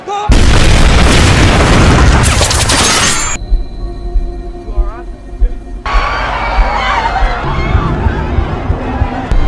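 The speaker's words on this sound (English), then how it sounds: "amid the panic, the bomb exploded and projectile-like nails were shot everywhere." A bomb packed with nails detonates in a loud boom amid a panicked crowd, with shattering debris, then a muffled interval and renewed crowd commotion and shouting.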